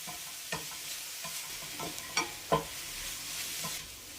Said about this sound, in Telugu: ఇప్పుడు ఇది వేసుకుని రెండు నిమిషాలు ఫ్రై చేసుకోవాలి